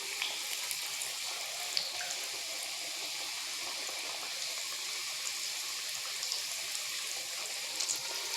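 Nimki, crisp snacks made from wheat-flour dough, fry in hot oil over a low flame, giving a steady, moderately loud bubbling sizzle with small scattered pops and no voices.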